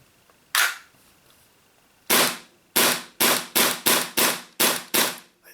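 Tokyo Marui FN 5-7 gas blowback airsoft pistol fires with sharp, snappy cracks: one lone shot, then a quick string of eight shots in a steady rhythm, loud and close.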